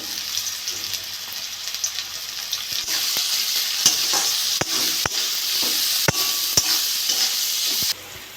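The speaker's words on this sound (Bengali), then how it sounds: "গাজরগুলো ভেজে নেবো হলুদ দিয়ে দেবো লবণ দিয়ে দেবো" Sliced carrots frying with turmeric and salt in a pan give a loud, continuous sizzle, broken by sharp utensil clicks and scrapes as they are stirred.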